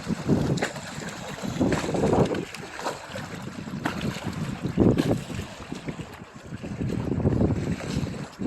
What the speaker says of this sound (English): The waves falling up on shore.